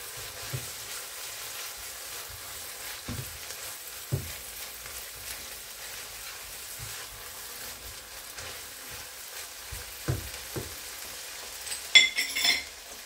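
Minced meat with two big spoons of crushed garlic stirred in a pan, a soft steady sizzle under scattered spoon scrapes and taps, growing busier near the end; no talking.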